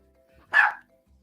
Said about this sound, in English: try to block the noise from the dog barking